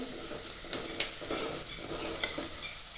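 Onions sautéing in oil in a pan, a steady close sizzle with a few sharp spatula scrapes and stirring knocks, no voices.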